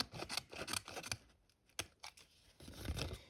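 Scissors snip through paper in a quick series of close, crisp cuts with short pauses between them, quiet and without talk.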